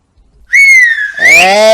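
A woman whistles a clear, sliding tune on her own at close range, the pitch gliding up and then settling into a brighter, fuller tone near the end.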